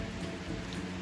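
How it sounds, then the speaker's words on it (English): Heavy rain pouring down on an island in Belize, a dense, steady hiss of drops hitting surfaces, loud and close, with a low rumble beneath and no talking. "Coming back in this big rain, oh my goodness."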